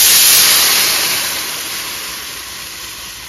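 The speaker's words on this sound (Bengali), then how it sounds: "এবার পরিমাণ মতো জল দিয়ে দেব" Water hitting a hot pan of spices, salt, turmeric and lightly fried potato for a bele fish and brinjal curry, bursting into a loud, close steamy hiss that slowly fades while staying steady.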